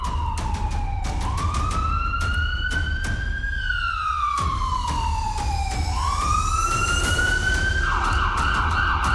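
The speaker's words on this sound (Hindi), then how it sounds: "तो ये सायरन की आवाज़ें आप सुन रहे हैं।" Air raid sirens wail across Lahore, Pakistan, near the airport, several loud rising and falling tones overlapping continuously against a low rumble of background noise.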